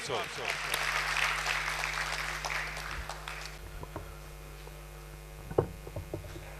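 An audience at a Punjabi poetry gathering claps for the poet Mukhtar Baloch. A few seconds of crowd applause fade into a low mains hum, with a voice speaking afterward and a couple of knocks near the end.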